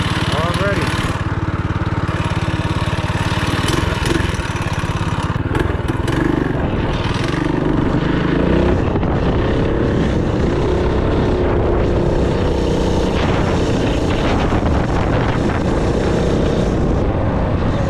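A minibike engine runs loud and close throughout, droning and revving unevenly without bogging, while people talk over it.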